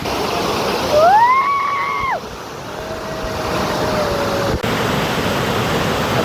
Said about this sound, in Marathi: धबधब्याचा जो आवाज आहे